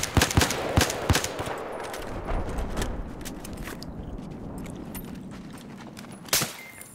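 Gunfire in the Battlefield video game from DICE, with rapid, loud bursts of shots early on, then a quieter stretch of rumbling ambience and one more sharp shot near the end.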